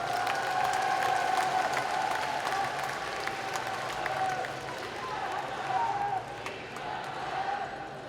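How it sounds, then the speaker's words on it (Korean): Applause from party delegates at a convention hall during a candidates' joint speech rally, a steady crowd clapping wash throughout with faint voices mixed in. "박수 한번 부탁드리겠습니다."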